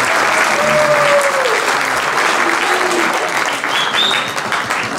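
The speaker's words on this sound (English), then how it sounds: "everybody a good round of applause." A banquet crowd at a high school athletic awards night claps steadily and loudly throughout, a dense sustained round of applause with a faint voice briefly audible beneath it.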